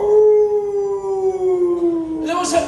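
A person imitates a wolf howling with one long, gliding, tonal wail held for over two seconds, ending in a short breathy burst.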